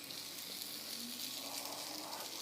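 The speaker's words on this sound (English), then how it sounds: "If it doesn't sizzle, it is not ready" A hash brown sizzles steadily in hot oil, a constant crackling hiss close by with no voices.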